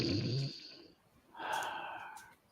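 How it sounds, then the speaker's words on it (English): Two drawn-out snoring breaths, a rough low inhale followed by a raspy, wheezy exhale, come from somewhere above in a quiet setting, with no talk. "you hear this snoring sound from somewhere above you"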